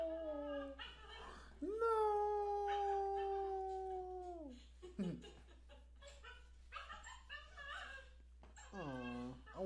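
A dog whimpers and lets out long, wavering howls, one sustained howl followed by shorter whines and another rising howl near the end, close and clear with a brief spoken word in between.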